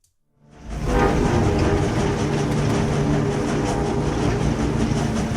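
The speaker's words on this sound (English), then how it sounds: "A train grinds to a halt inside Auschwitz for the first time" A train at Auschwitz rumbles loudly and steadily after a brief silent start, with heavy low-end roar and rail noise continuing throughout; no distinct braking squeal stands out.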